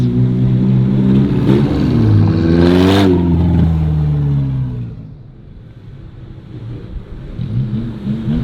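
A turbocharged K-Series engine in a Civic EK hatchback revs up hard, its harmonic whine climbing and peaking before falling away into a lower idle rumble, then building again briefly, loud and close with no talk.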